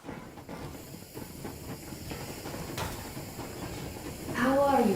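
A steam locomotive setting off in the video game Metro Exodus, with steady hissing steam and rumbling rail noise, a voice speaking over it, and a sharp whistle-like burst rising near the end.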